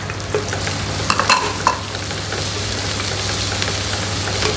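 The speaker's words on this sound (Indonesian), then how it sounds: "Tumis sampai harum." Lemongrass, garlic, lime leaves and bay leaves sautéing in a pan, with a steady sizzle and a few scraping stirs near the start, continuing alone without talk.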